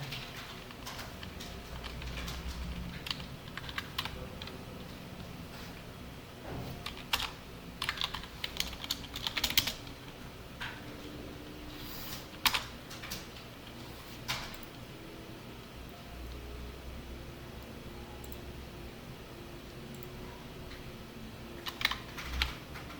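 Fingers tap steadily on a computer keyboard in quiet, irregular bursts, with a few sharper key strikes standing out, close and fairly soft, with no talking.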